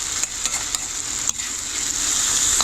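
Potatoes frying with chillies, curry leaves and cumin in hot oil, a steady close hiss and crackle with a few stirring scrapes, loud and alone.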